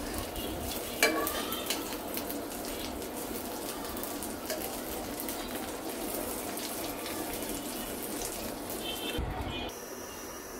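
Pointed gourd (potol) frying in a pan gives a steady, soft sizzle that runs throughout, with a few faint clinks near the start and a brief break near the end.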